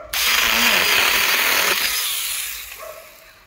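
A small one-handed Chinese chainsaw cuts into wood, its motor whining loudly and steadily, then slowing and fading toward the end as the cut finishes, with no talking.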